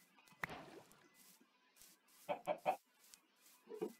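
Minecraft chicken clucking in short, separate bursts: one sharp cluck near the start, a quick cluster of three in the middle and a final pair at the end, over a quiet game background.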